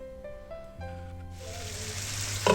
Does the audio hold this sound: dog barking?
no